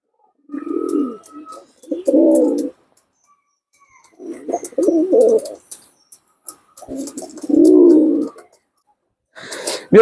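Pigeons of a high-flying breed coo in several low, throaty bursts separated by short pauses, close by, with no voices, ending in a brief higher chirp.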